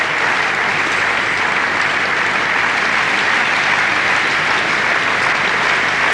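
Steady, dense applause from a large crowd fills the whole stretch without a break, loud and close, at the 1991 UIAA World Climbing Championships in Frankfurt, Germany.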